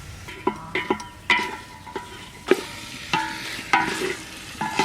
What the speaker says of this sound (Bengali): এবার মাংসটা দিয়ে দেবো, সবটা ঢেলে দিই